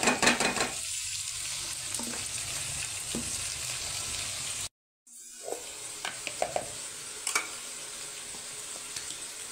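Onions added to hot oil for a fried liver curry, sizzling steadily with occasional scrapes and taps of stirring, broken by a brief moment of silence midway.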